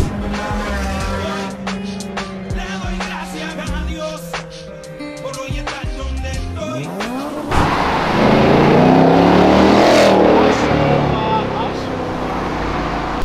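Nissan 350Z drifting on an avenue, engine roaring and revving hard with tire noise, loud and close, under talk, swelling into a sustained wash of sound partway through.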